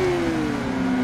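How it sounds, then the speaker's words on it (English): A 600cc sport bike engine in the RIDE 5 racing game sits on the rev limiter, a loud steady high-pitched buzzing drone with a slight falling pitch, alone without talk. "keep hitting the rev limiter"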